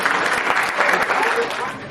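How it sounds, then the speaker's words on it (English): A graduation-day audience at a senior recognition ceremony applauds as Ms. Collins is called to the stage, a dense continuous wash of clapping throughout. "Let's give her a round of applause."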